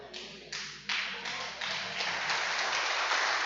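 A church congregation claps hands together, starting with a few scattered claps and quickly swelling into dense, sustained applause that grows louder and steadier to the end.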